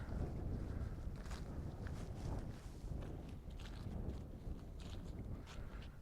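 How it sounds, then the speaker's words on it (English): Wind buffets the microphone in a low, steady rumble throughout at Fort de Chartres, with faint scattered taps and knocks underneath. "It is kind of windy."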